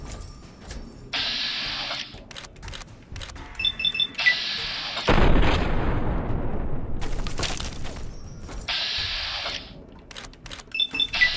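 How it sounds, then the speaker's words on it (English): Grenade launcher shots and explosions in Fallout: New Vegas, with two big rumbling blasts among sharp mechanical clicks and reload sounds, loud and without talk. "I love shooting grenades"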